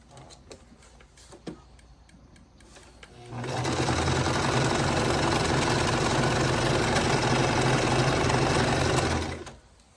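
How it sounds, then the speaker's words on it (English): A sewing machine stitching quilt pieces right sides together, starting after a few seconds of quiet handling and then running as a loud, steady, close whir for about six seconds before stopping abruptly. "let's sew right sides together"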